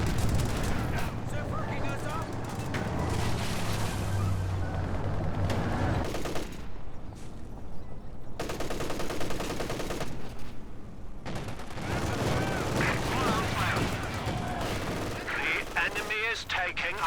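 Artillery barrage and gunfire in the World War II strategy game Company of Heroes 2: a continuous, loud wall of overlapping shots and booming impacts, rolling and dense for the whole stretch with brief dips.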